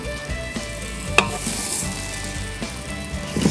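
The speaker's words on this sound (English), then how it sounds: "One side here, and we're gonna put our rice in on the other side" Rice sautés in an Instant Pot alongside browned squash and onions, a constant loud sizzle with occasional stirring scrapes and a few light knocks, no voices.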